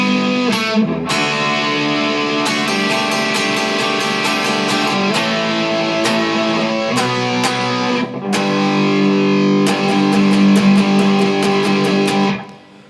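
A distorted electric guitar plays the middle 8 of a rock song alone, loud and sustained, with chord changes and brief gaps before fading at the end.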